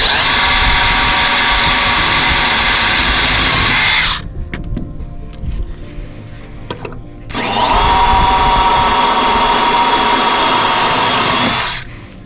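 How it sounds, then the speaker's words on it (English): A loud power drill whines steadily for about four seconds, pauses briefly, then runs again for another long burst close by, drilling out a metal plate on a roof truss. "I've been drilling it out like this."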